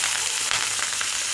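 Steady, close sizzle of chopped onions frying in hot oil with garam masala, continuous and fairly loud with no voices over it.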